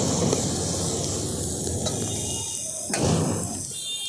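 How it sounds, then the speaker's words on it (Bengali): Grated carrot drops into a pan of fried onions, setting off a loud spraying hiss that swells twice and then settles into a steady sizzle. "এবার দিয়ে দিচ্ছি গ্রেট করে রাখা গাজর।"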